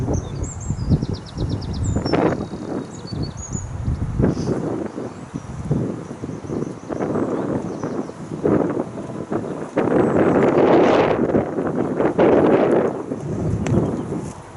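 Steady rushing wind noise played from a sound system buffets the microphone for the whole stretch, with rustling and a few faint bird chirps in the background.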